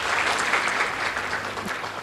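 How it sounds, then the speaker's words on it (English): A crowd at an anniversary celebration gives the elders a round of applause, steady massed clapping heard alone and fairly close. "I think we need to give our elders a big round of applause."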